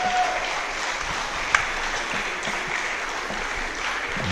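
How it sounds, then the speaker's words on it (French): Crowd applause at the end of a women's canne de combat bout in a French championship small final, steady and fairly loud clapping throughout, with one sharp knock partway through. "J'entends les applaudissements du public."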